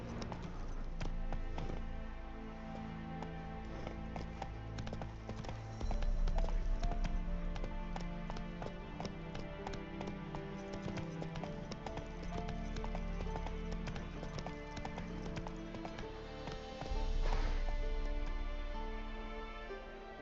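Roach the horse's hooves clip-clop at a slow walk in The Witcher 3, a steady rhythmic tapping that runs beneath a dense, continuous musical score across the whole stretch.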